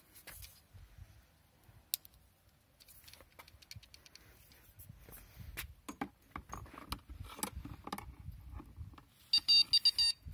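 After a stretch of quiet rustling and handling noises, a rapid electronic fishing bite alarm beeps loudly for about a second near the end.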